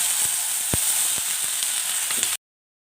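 Cluster beans fry with red masala in a hot pan, giving a loud, continuous sizzle with a few short crackles and stirring scrapes before it cuts off abruptly.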